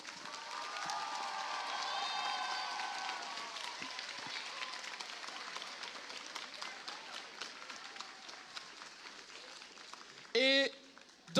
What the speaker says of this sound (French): c'est un tonnerre d'applaudissements pour tous les arbitres, pour tous les jurys.